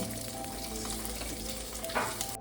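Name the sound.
potatoes frying and being stirred in a pan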